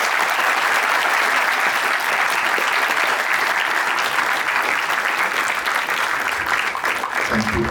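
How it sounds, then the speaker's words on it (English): Sustained applause from an evening panel discussion audience, a dense, steady wash of clapping that fills the whole stretch at close, loud level, tapering slightly near the end. "Could I ask all of you to have a big round of applause for the panelists?"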